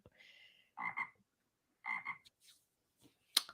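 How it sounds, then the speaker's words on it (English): A small yellow frog calls in a recorded clip: three short croaking bursts spaced about a second apart, fairly close and clear, followed by a few faint clicks and a sharp final chirp against quiet background. "Oh, it's a little yellow frog."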